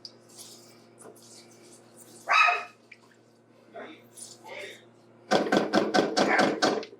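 A pet dog named Normie barks in a quick run of about six sharp barks near the end, with kitchen sounds and a speaking voice earlier.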